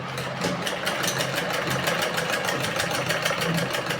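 A sewing machine stitches along the edge of a round neckline, a fast steady mechanical whirring and rapid clatter running continuously and close, with no talking.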